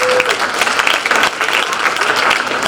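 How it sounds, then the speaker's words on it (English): A crowd at a college athletics awards ceremony gives itself a round of applause, steady dense clapping throughout the short stretch. "So give yourselves a round of applause."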